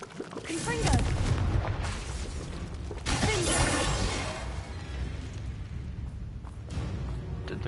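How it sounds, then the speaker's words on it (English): A Confringo blasting spell explodes in Hogwarts Legacy, a sharp shattering burst followed by a second crackling blast, set against a busy game soundscape with a voice talking over it. "Confringo"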